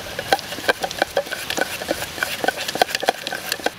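Dalda vegetable shortening being mixed in a bowl for cake cream, a steady run of close, soft scraping and tapping strokes in an uneven rhythm, with no voices.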